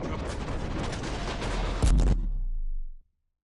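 Heavy gunfire in Mass Effect 3 rattles in a dense, continuous barrage, with a louder blast burst near the two-second mark before the firing cuts off abruptly, leaving silence.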